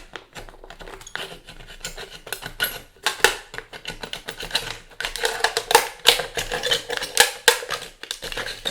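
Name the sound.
utility knife cutting aluminum can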